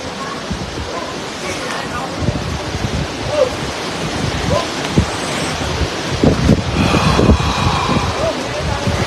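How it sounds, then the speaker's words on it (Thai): Sea surf churned by strong storm wind on a Thai coast, a steady rushing roar with heavy gusts buffeting the microphone and surging louder toward the end, with no talking heard. "ดูทะเลครับ ถ้าทะเลแบบนี้แสดงว่าลมแรงมากนะครับ"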